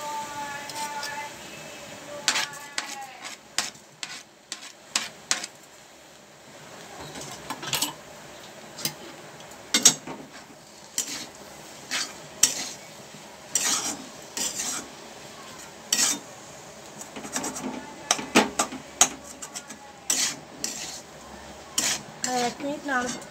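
Chopped tomato and chili go into a pan and get stirred, with a metal spoon clanking and scraping against the pan in irregular bursts while someone talks over it.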